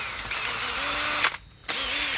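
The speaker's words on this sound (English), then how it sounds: "Plus, this ain't the impact. This is just a drill." A regular drill, not an impact tool, loosens bolts on a Honda CT90 clutch cover. It gives a steady, close, high whirring whine that stops briefly and then starts again.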